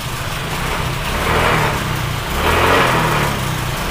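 A motorcycle engine idles steadily close by after a repair, a buzzing mechanical drone that swells slightly twice without any talk.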